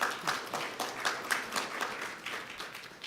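Scattered audience applause at a mayoral forum for the City of Weslaco, a thin patter of individual claps that stays moderately faint and gradually trails off over about three seconds.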